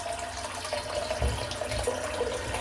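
A tap runs steadily into a bathroom sink as it fills with water, a soft continuous splashing rush heard close and fairly quiet, with no talking.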